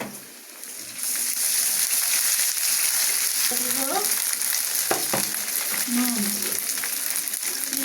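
Ginger paste fries in oil with onions and mixed vegetables, starting with a loud close sizzle that jumps up after a quiet first second and holds steady. Stirring scrapes and a brief murmur of voice sit over it.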